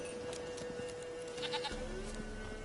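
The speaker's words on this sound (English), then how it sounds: "Alright, I found the goat." A goat in The Witcher 3 video game gives a few short, quavering bleats, fairly faint, over soft game ambience with no talk.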